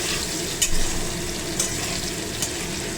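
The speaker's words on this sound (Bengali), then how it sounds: "আলুর দমের জন্য আমি কড়াতে আলুটা ভেজে নিলাম" Potatoes fry in oil in a kadai for aloo dum with a steady, loud sizzle close at hand, broken by three short metallic clinks from stirring.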